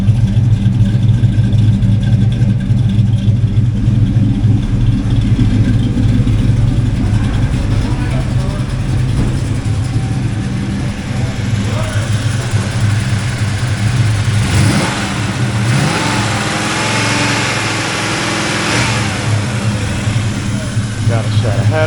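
A 1996 Chevrolet Impala SS with a 5.7L LT1 V8, a slight cam and headers, rumbles loudly at idle with a lopey low beat, then revs briefly midway before settling back; someone talks over it.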